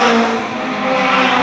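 2-litre hot rod race cars at Arlington Stadium roar past in a loud, continuous engine drone that holds steady with slight swells, close and dominant with no talk.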